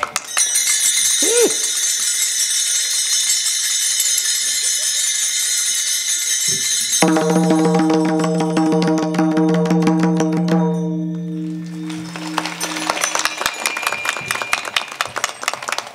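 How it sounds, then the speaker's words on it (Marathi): Small tal hand cymbals at a kirtan keep up a bright, ringing metallic wash, then fall into rapid rhythmic clashes over a sustained droning tone before loud, dense strikes return near the end. "टाळ"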